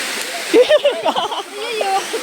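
Kuttupatti waterfall splashes as a continuous rushing wash under loud, close voices talking and calling out over the water.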